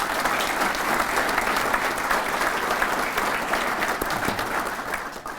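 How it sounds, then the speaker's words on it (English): Warm audience applause for event sponsors at a business gathering, a dense, steady clapping from a sizeable crowd that stays loud and then begins to thin toward the end. "Could you please give our sponsors a big round of applause for their support?"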